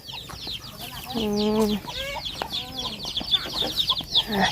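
Chickens clucking and calling nearby at a rural countryside spot, a busy mix of cackles and a drawn-out squawk over faint background noise, with speech mixed in.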